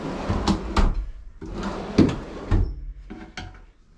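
Several drawers without handles slide and bump shut in quick succession in a DIY 4x4 camper build, a series of short close scrapes and knocks with brief pauses between them.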